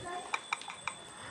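Phone keyboard app in its default sound setting gives a few soft, quiet tapping clicks, spaced irregularly and heard alone against faint background hiss.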